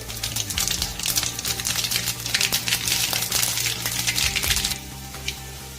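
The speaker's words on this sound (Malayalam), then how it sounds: "ഇനി ഇതാ ഇതിലോട്ട് നമുക്ക് കുറച്ച് കടുക് ഇട്ട് കൊടുക്കാം" Mustard seeds splutter and crackle in hot coconut oil in a pan, a dense loud burst of rapid popping that fades into quieter sizzling near the end.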